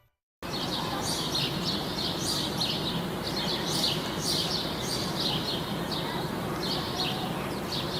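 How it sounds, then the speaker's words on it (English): Birds chirp and twitter repeatedly over a steady, dense outdoor background hiss, their calls fairly faint and continuous. "The sound of the birds."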